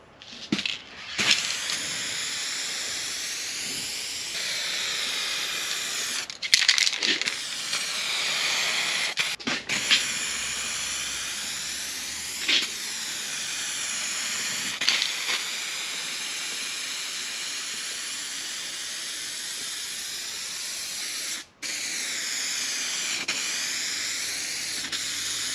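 A spray gun laying paint coats on a 1956 Chevy Gasser long roof, heard as a steady close hiss in several long passes separated by short breaks.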